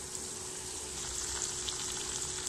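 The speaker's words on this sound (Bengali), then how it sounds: "এভাবে আমি পেঁয়াজটা ভাজবো" Onion fries in a pan with a little salt, giving a steady, soft sizzling hiss that runs unbroken and fairly quiet throughout.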